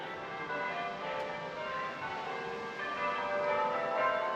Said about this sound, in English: Church bells lovely.